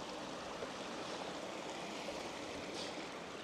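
Steady broadband rush of a river stream flowing through a steep Welsh slate quarry valley at Cwmorthin, continuous and fairly close with no voices.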